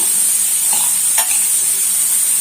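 Onions frying with salt in a pan for a prawn curry, a bright, constant sizzle close up with a couple of brief soft stirring scrapes, no voices.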